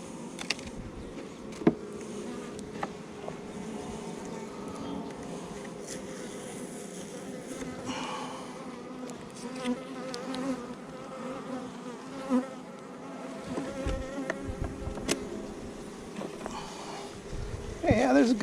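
Honey bees buzz steadily around an open hive box in a continuous soft drone, with a person talking quietly throughout and scattered clicks and knocks from handling the equipment.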